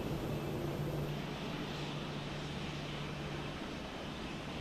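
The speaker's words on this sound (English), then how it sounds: "Listen to those engines just burning Jet A." Boeing 737 jet engines in Microsoft Flight Simulator 2024 at Dallas Fort Worth, a steady low engine drone with a faint whine, continuous and even for several seconds.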